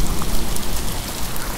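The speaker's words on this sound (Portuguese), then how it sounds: "Granizo caindo" A hailstorm with heavy rain pounds a newly built sidewalk in a dense, loud, continuous patter, with no talking.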